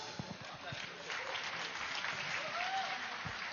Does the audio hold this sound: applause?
yes